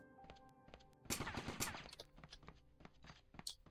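Faint, distant gunfire from players fighting in the War Brokers battle royale, a short cluster of muffled shots with a louder burst partway through, otherwise quiet.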